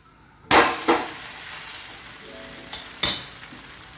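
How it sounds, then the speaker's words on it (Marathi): Egg thalipeeth roasting in a pan over low heat, a steady soft sizzle with a couple of sharp clinks and scrapes from handling the pan or lid, close by and without speech. "1 मिनिट असं कमी गॅसवरच भाजून घ्यायचं."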